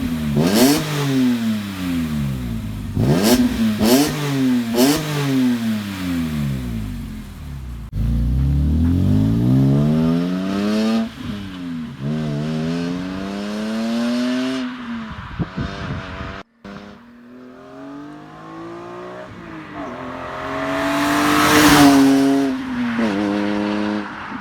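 A BMW E92 M3 with the S54 engine revs hard and close, several sharp blips rising and falling in pitch, then a longer sweeping rev building up to a loud scream near the end.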